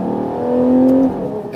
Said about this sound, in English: you get this typical Ferrari sound and the supercar experience